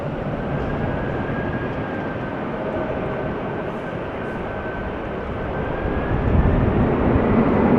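A Boeing 747-400 jet airliner takes off from runway 24 at Amsterdam Schiphol Airport, a steady, heavy engine roar with a faint whine that swells slightly toward the end, heard at a distance with no talk.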